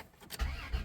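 A 1997 Dodge Grand Caravan SE, left sitting on a farm for over four years, cranks and catches, its engine firing into a loud, low rumble partway through a brief moment.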